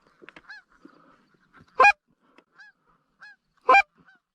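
Canada geese honk during a fall goose hunt. Scattered faint calls are broken by two loud, nearer honks about two seconds apart, with no talking.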